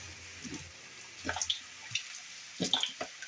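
Liquid is poured into a hot pan, giving soft watery splashes and drips. They come in several short bursts at close range over a quiet background.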